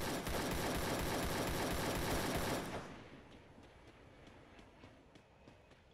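Rapid automatic gunfire from the mobile shooting game Free Fire blasts as a dense, loud, unbroken burst for almost three seconds, then cuts to a quieter game background with faint ticks.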